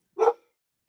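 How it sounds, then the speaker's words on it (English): A single sharp dog bark, close and fairly loud, stands alone against silence in a home during hurricane preparations. "Sorry about the dog."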